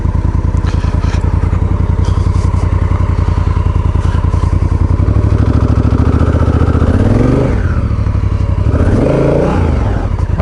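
A Honda Africa Twin motorcycle rides through spring snow, its engine loud and close with a steady throbbing pulse that rises and falls as the throttle changes, and no talking.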